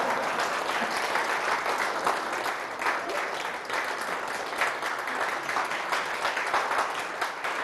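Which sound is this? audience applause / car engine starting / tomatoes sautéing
audience applause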